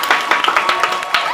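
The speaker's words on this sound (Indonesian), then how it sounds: "Baik, tepuk tangan untuk Bagong." Applause and clapping from an audience at a Madurese comedy talent show, honoring a performer, with distinct individual claps over a murmur of voices.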